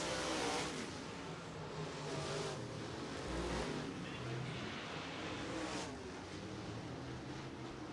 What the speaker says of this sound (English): Green flag is out. Hot lap session number 2.